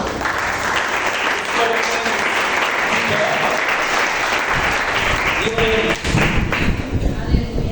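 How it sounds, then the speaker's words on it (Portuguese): A church congregation at a worship service applauds together in a long, dense burst of clapping, with a few louder thumps and some voices mixed in near the end. "Aplauda o Senhor."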